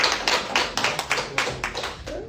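Steady hand clapping in a classroom during a language course, about ten sharp claps in an even rhythm, moderately close and alone with no speech over it.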